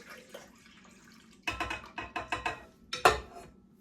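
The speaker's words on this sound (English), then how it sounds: "pour in our wet ingredients" Wet ingredients poured into a stand mixer bowl for baking Panis Quadratus bread, a quiet lead-in followed by a series of close splashing, gurgling pours and a final louder slosh.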